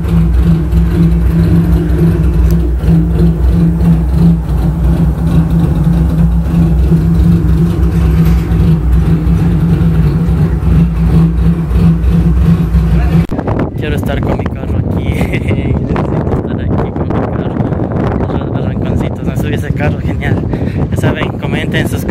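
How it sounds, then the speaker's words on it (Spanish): A race car engine roars loud and constant from inside the cabin at the Yaguarcocha racetrack, then gives way to heavy wind buffeting as people talk over the noise. "así es la parte de adentro de un carro de carreras"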